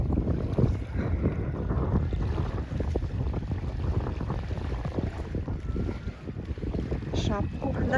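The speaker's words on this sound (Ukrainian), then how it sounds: "дуже холодний вітер" Strong, steady, cold wind buffets the microphone with a low roar on a walk to the sea at Matinkylä, Espoo, while voices talk faintly underneath throughout.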